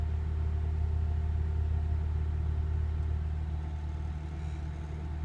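A 2005 Acura RSX Type-S engine idles on a weak cold start, a steady close-up low rumble that eases slightly toward the end, with no voices.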